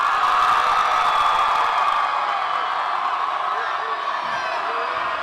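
A high school pep rally crowd at Northeast High, home of the Hurricanes, roars with loud, sustained cheering and whooping that fills the whole stretch without a break.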